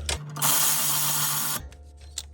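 Ratchet tightening wheel fasteners after a rotor replacement: one loud rapid run of clicking lasting about a second, close up, followed by quieter handling noise.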